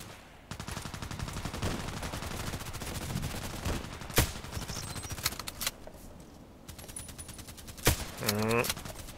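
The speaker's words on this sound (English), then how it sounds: "Some shots from the left." Rapid gunfire bursts and single shots from a tactical shooter video game featuring an HK417 rifle, dense and continuous with sharper loud reports near the end, while someone talks over it.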